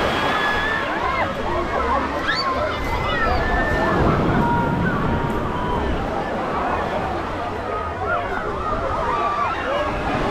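Sea waves wash onto a crowded beach in Alushta, Crimea, a steady rolling surf with wind noise on the microphone and distant voices and children's shouts mixed throughout.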